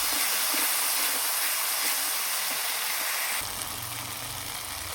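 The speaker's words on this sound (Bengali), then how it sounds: "1 চামচ রসুন বাটা আর 1 চামচ আদা বাটা দিয়ে ভালোভাবে মশলাটাকে আবার কষিয়ে নেব" Spice paste with garlic and ginger paste sautéing in oil in a pan, a loud steady hiss and sizzle throughout, slightly dropping near the end with low stirring rumble, no talking.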